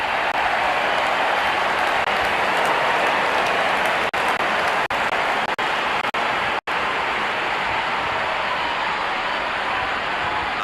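A cricket crowd at an India versus England T20 international applauds a batsman reaching fifty, a loud, steady wash of clapping and crowd noise that fills the stadium without pause.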